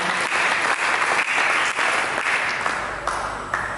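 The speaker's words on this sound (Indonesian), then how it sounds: "Berikan tepuk tangan bagi saudara." A church congregation claps steadily, a dense, even wash of applause that tapers slightly toward the end.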